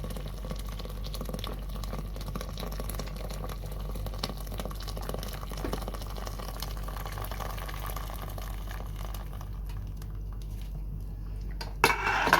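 Hot boiled water is poured into a pot of harira soup in a home kitchen: a steady, continuous rushing pour lasting several seconds, ending with a brief clatter of the pot near the end.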